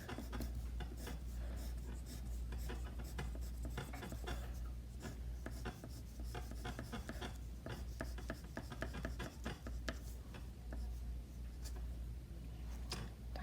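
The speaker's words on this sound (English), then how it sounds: "So let's do cross hatching. I'm going to go one way and then the other way." Graphite pencil cross-hatching on drawing paper, a steady run of quick, close scratchy strokes going one direction and then the other, continuous and close throughout.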